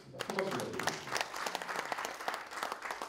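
An audience at a political academy lecture in Busan bursts into sustained applause to welcome an education superintendent-elect to the stage, dense steady clapping throughout, with a voice speaking over it.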